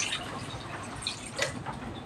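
Water poured into a cooking pot of chicken, a close uneven splashing and dripping with a couple of brighter splashes partway through, no talk over it.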